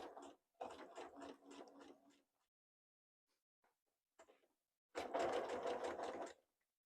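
A sewing machine stitches through a denim purse in several quick bursts of rapid, rhythmic clatter, separated by pauses with faint handling noises, then one longer steady run near the end.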